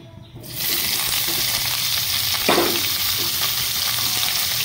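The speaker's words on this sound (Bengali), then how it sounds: "প্রথমে আমি পনিরটা ভেজে নেব।" Paneer pieces fry in hot oil in a kadai, giving a steady, close sizzle that starts abruptly after a moment of quiet, with a brief stirring scrape partway through.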